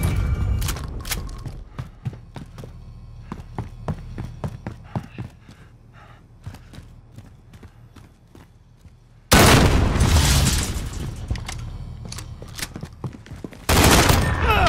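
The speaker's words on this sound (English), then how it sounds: "Cruise missile go for launch." Cruise missile strike in a Call of Duty-style shooter: sharp blasts and gunfire crackle through the first half, then two loud, close explosions burst out with rumbling roar, the first sustained for several seconds, the second cut short at the end.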